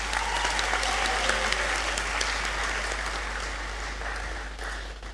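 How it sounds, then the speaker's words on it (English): Audience applause at a university congregation ceremony in a great hall fills the space with steady, dense clapping throughout, moderately loud and slowly tapering near the end. "kindly join me in giving a warm round of applause to them"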